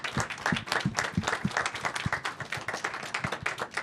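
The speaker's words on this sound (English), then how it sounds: "A round of applause to Aaron Judge." A press-conference audience claps for New York Yankees player Aaron Judge after his Roberto Clemente Award, individual claps distinct and fairly close, a modest crowd rather than a roaring one.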